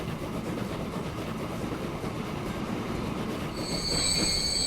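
A Prussian steam train in Transport Fever (1875 era) rolls along the rails with steady, loud rumbling wheel noise, and shrill wheel squeal rises near the end.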